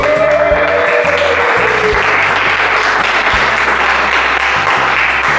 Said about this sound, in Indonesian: Kita beli tepuk tangan untuk kelompok 1